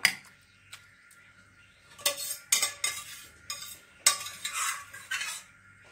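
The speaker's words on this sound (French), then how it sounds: "Je dépose mes légumes dans le plat à gratin." Cooked vegetables and boiled potatoes set into an oiled gratin dish for a sardine gratin, heard as a run of clattering ceramic and utensil knocks in uneven bursts, close and moderately loud, with a faint low hum underneath.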